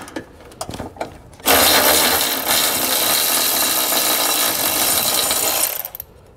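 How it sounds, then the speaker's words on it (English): After a few light clicks and taps, a loud close power tool runs steadily for about four seconds, driving a 12 mm socket to remove a bolt while fitting a trailer hitch receiver on a 2018 Nissan Pathfinder. "we're going to remove that bolt at the top there using a 12 millimeter socket"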